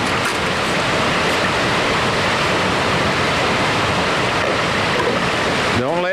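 Water holding live trout gushes into a bucket during trout stocking, a loud, continuous rushing splash that runs unbroken for about six seconds before ending abruptly.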